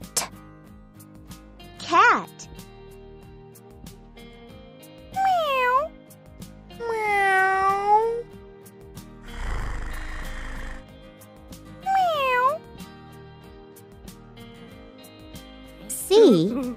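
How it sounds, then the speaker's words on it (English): Cat meows repeatedly, several drawn-out rising and falling cries spread across the span with pauses between, fairly close, with a little background noise and no clear talk. "C is for cat."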